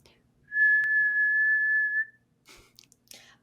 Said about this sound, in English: They keep hearing the sound, but then they suddenly start hearing some whistling.